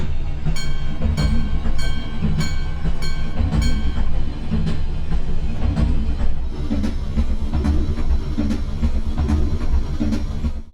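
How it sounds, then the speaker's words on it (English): A tram in a horror video game, its sound changing with speed, rolls along with a steady rumbling drone and rhythmic clanking over the rails, loud and continuous throughout, with no voices. "I made a system that progressively changes the sound of the tram based on the speed."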